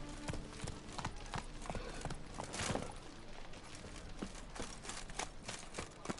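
Horse hooves clip-clop steadily at a walking pace in The Witcher 3, a continuous rhythmic series of close, fairly loud hoof strikes over a busy game ambience.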